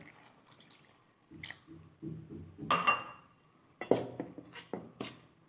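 Wet sloshing and clinking of a utensil against a bowl as thick banana fritter batter is mixed with water, in uneven short bursts, close up and soft.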